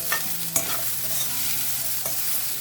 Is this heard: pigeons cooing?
no